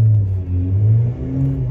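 A car engine idling steadily just after being started, a loud, close, continuous low rumble with slight swells in level and no voices.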